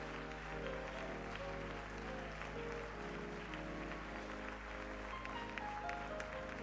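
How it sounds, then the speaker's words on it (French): A church congregation applauds in praise during a French-language worship service, with a steady wash of clapping sitting over a sustained, humming musical background throughout. "Donnons au Seigneur une acclamation."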